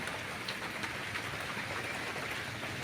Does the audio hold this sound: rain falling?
yes